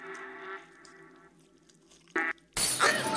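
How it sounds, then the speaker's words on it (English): A glass display case is smashed by hand in the audio game Papa Sangre II: a quiet lead-in with a short knock, then a sudden loud crash of breaking glass that rings out to the end. "You'll need to smash it open with your hand. When you break the glass, the mind louse will come looking for you."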